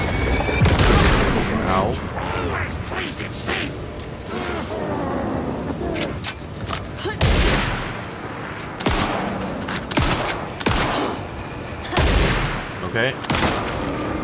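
Gunfire in the survival-horror game Alan Wake 2, a run of sharp, loud shots and bursts scattered through the scene, with someone briefly speaking over it.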